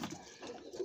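A pigeon coos softly and briefly nearby, a faint low murmur in a quiet setting.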